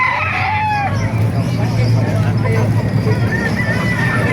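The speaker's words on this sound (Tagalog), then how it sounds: "Malalaking manok niyan." Roosters crow repeatedly at a busy chicken market in Calumpit, Bulacan, their calls rising over constant crowd chatter, clucking and low background hum.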